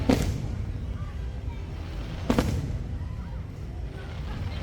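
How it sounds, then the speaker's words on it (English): Halloween fireworks at Mickey's Not So Scary Halloween Party at Walt Disney World give two distant, muffled booms about two seconds apart over steady crowd and ambient noise. "The Halloween fireworks at Mickey's Not So Scary are supposed to be some of Walt Disney World's best"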